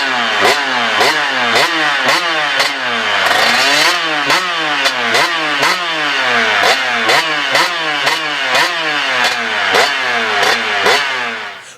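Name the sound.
2003 KX125 two-stroke dirt bike engine revving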